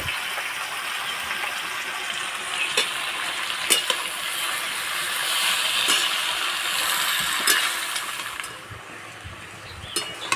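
Tomatoes fried in a pan and stirred for tomato pickle: a continuous close sizzle with a spoon scraping through the pieces and occasional sharp clinks against the pan.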